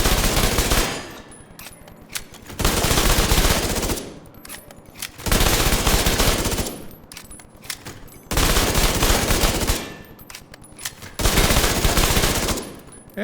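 Tommy gun submachine gun firing in Division 2, loud sustained automatic bursts of roughly one to two seconds each, repeating about every two seconds with brief quieter gaps between volleys.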